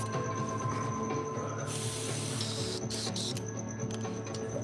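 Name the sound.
airbrush spraying cleaner onto a napkin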